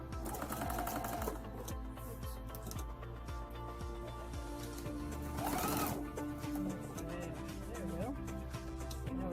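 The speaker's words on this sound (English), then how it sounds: "1/4 inch seam" A sewing machine stitching a quarter-inch seam on a spiderweb quilt, steady rapid needle clatter running continuously at close range, with a brief louder burst midway and a voice talking over it.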